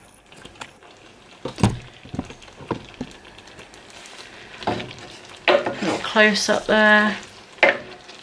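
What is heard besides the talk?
pepper and chorizo pasta sauce cooking uncovered in pot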